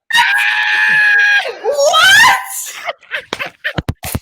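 A person screams in excitement, a loud, sustained, high-pitched shriek that rises and falls, then breaks into short bursts of breathy cries and laughter.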